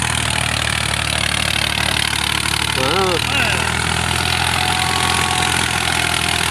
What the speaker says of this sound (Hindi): ट्रैक्टर का बहुत ज़्यादा जोर लगता पे।